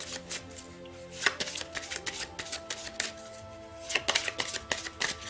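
A deck of tarot cards is shuffled and cut by hand, giving close, crisp riffling and slapping bursts of varying density, with no talk.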